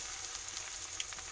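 Ginger and garlic fry lightly in oil for Bengali khichuri, giving a soft, steady hiss with small crackles close by.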